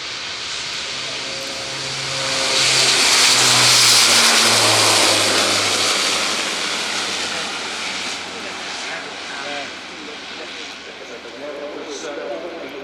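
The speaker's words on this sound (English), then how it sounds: "On the roll, it's the Airbus A400-M." A German Air Force Airbus A400M Atlas military transport roars past during its takeoff run at the RIAT 2025 airshow, a heavy propeller engine drone swelling and then fading, with a voice talking over it.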